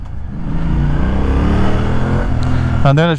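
A cable-throttle motorcycle engine runs close up with a rough, steady rumble that swells in a revving blip, and a voice briefly comes in near the end.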